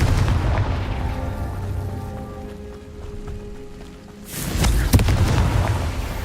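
A Confringo fire spell explodes in a Hogwarts wizarding video game, a loud broadband blast bursting in after a quieter rumbling stretch, with crackling debris and rain-like patter continuing to the end.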